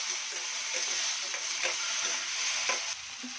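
Onion, green chili and tomato stir-fried for masala noodles, a steady close sizzle with scraping stir strokes recurring through the whole stretch, no voices.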